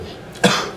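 A single short cough from a man sick with flu, close and fairly loud, a sharp burst with a brief rough tail, alone with no talk.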